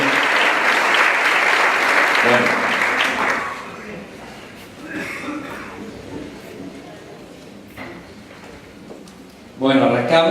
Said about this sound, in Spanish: démosle un aplauso aún mayor a ellos, un fuerte aplauso por 15 años de